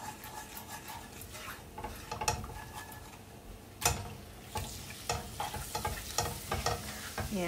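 Shrimp fry in a pan with coriander, a soft steady sizzle under repeated scraping and clinking as a utensil stirs them against the metal, close and fairly quiet.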